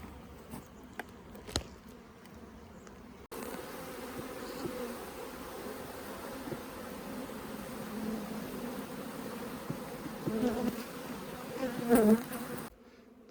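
Honeybees hum steadily in an opened, queenright beehive during an inspection, a dense close buzz that holds throughout with a few louder passes near the end and no talking.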